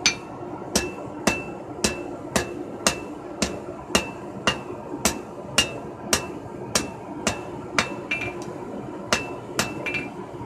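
A rounding hammer rings out on a small piece of hot round bar while the tip of a blacksmith knife is forged, about eighteen sharp, evenly spaced metallic strikes over steady forge noise.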